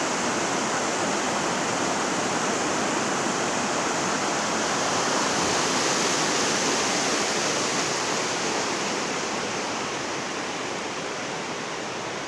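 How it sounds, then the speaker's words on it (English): A small waterfall on Milk Creek along the Pacific Crest Trail rushes continuously, a dense steady roar of falling water heard up close without pause. "Little waterfall."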